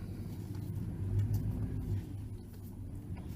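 Pickup truck engine while driving, a low steady rumble with a slight swell in revs midway, heard from inside the cab with road noise and no talking.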